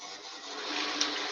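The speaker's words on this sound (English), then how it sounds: "carry on with the sanding then" Wood being sanded on a spinning lathe during woodturning gives a steady, close, broadband rushing hiss that swells slightly toward the end, with no voices.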